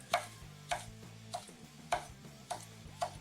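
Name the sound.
knife slicing green onion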